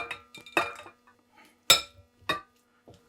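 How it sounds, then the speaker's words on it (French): Sticky rice for mango sticky rice dropping into a salad bowl, heard as a few separate close knocks and clinks against the dish with quiet gaps between them. "On met le riz gluant dans le saladier."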